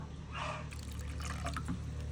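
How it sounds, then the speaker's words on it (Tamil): Thick coconut milk poured into a simmering chicken gravy in a home kitchen, a soft liquid trickle and splash that runs steadily for about two seconds, close by and moderately quiet, with no talking over it. "நாங்கள் பால் விடுறோம்"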